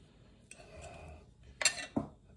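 Cutlery scraping and clinking against a plate while cutting into an air-fried burger, a few close, sharp clatters standing out from a quiet kitchen room tone.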